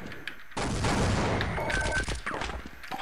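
Sustained, loud automatic gunfire from a ceiling-mounted turret in a resupply room in Team Fortress Classic, rattling steadily for over two seconds with sharp bursts.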